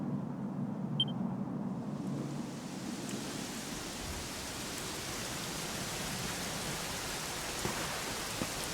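Steady, dense rainfall in the video game Dragon Quest XI hisses continuously, an even wash of drops with a low rumbling undertone and no voices.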